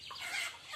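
Chickens from a poultry batch being sold by the truckload give short soft clucks, faint and close, with no talk.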